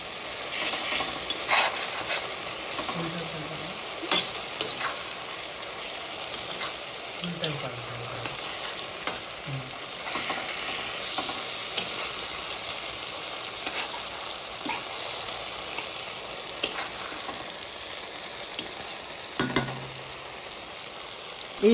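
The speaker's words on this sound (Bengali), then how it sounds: "সেখানেই ভেজে রাখা কাতলা মাছের পেটিগুলো দিয়ে ভালোভাবে নেড়ে চেড়ে" Fried katla fish belly pieces being stirred into a masala for doi katla, a soft continuous sizzle broken by repeated scraping strokes and light clinks of a spatula against the pan.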